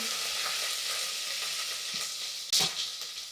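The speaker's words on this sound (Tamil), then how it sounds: "இப்போ கருவேப்பிலை சேர்த்துக்கலாம்." Curry leaves sizzling in hot oil in a pan: a steady, close frying hiss with a sharp burst of crackling near the end, no voices.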